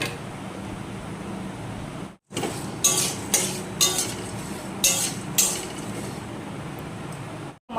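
Coriander seeds, dried chillies and a cinnamon stick dry-roasting in a hot pan, with steady sizzling crackle and several sharp clinks of a spoon stirring against the pan, briefly cut silent midway.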